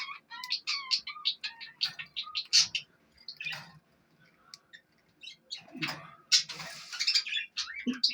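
Pet rainbow budgies in an indoor bird room chirp and tweet in quick, busy bursts close by, with a short lull midway and no voices.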